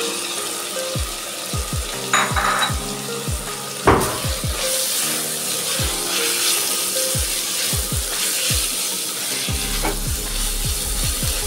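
Cut potatoes and soaked soybean chunks fry in a pan with a steady sizzle, broken by repeated scraping stirs and utensil knocks at an uneven rhythm, with one louder clatter early on.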